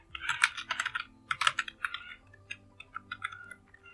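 Keys clatter on a computer keyboard while commands are entered in a Linux terminal during a WordPress setup, quick irregular bursts of close, fairly quiet typing with short pauses and no talk.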